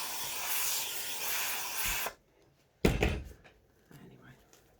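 A hat-making steamer gives off a loud, continuous hiss of steam for about two seconds. It cuts off sharply, then a single knock and a faint clatter follow in the quiet.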